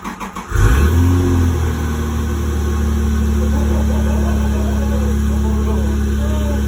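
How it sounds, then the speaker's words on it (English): An imported dream car's engine catches and revs briefly with a throttle blip, then settles into a loud, steady idle rumble close by. "Just touch the gas once before you start"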